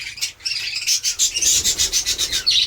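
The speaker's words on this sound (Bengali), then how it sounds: "কিছু কিছু পাখি ভাঁড়ে বসে আছে, সবাই আনন্দ ফুর্তি করে খাওয়া দাওয়া করছে" Flock of birds feeding together at a spot with clay pots, heard close as rapid rhythmic scratching and rubbing mixed with chirps, pulsing about five times a second throughout.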